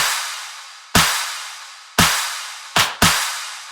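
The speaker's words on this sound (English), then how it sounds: "The clap has 4 separate layers" Four layered clap samples from a drum mix, each struck separately: sharp bright hits with long decaying washy tails, the last two arriving close together, played alone.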